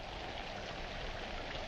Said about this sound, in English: In this rain?